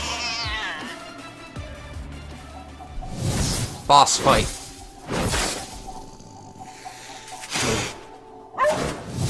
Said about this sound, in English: Dog v cat.